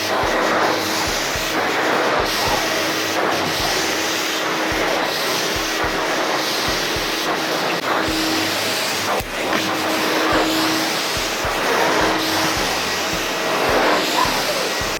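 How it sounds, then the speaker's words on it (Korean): Backpack vacuum cleaner running, a continuous loud broadband whoosh and motor hum with steady airflow roar throughout, no voices. "한번 작동을 하면서 어떤 느낌으로 청소기가 돌아가는지 한번 보여드리도록 할게요"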